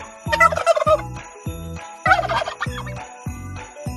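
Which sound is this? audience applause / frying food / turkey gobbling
turkey gobbling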